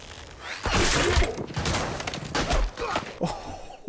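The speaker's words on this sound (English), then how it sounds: "The shots are being fired early on." Gunfire from a scene in the TV crime drama Fargo, a burst of several loud shots and thuds under a dense soundtrack, with voices faintly mixed in.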